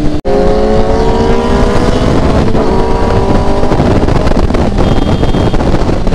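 A Kawasaki Z900 motorcycle engine roars loud and close on a highway ride, its rising revs carried over heavy wind buffeting on the microphone.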